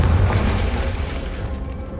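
Confringo spell blast in Hogwarts Legacy: a single booming explosion that hits hard at once and then rumbles away over about two seconds.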